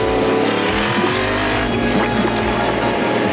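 Cartoon motorbikes racing round a junkyard track, loud buzzing engines whining and shifting pitch with a squealing edge, continuous and close with no talk.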